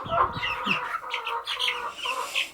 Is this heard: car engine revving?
no